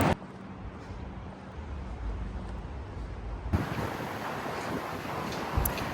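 Strong wind at a seaside park in Baku, blowing as steady broadband rushing and buffeting against the microphone. It grows rougher and louder partway through, and no one speaks.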